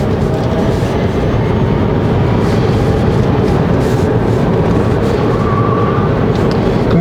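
Inside a 2019 Chevrolet Bolt EV cornering on a winding road, loud, constant broadband tire and road roar fills the cabin without a break.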